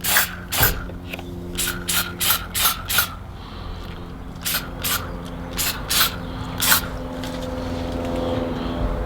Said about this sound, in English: So I'm just going to spray it into the hole.